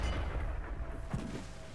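Nashorn tank destroyer gun firing in a tank battle game, a deep rumbling artillery boom with a low roar behind it, moderately loud, no speech.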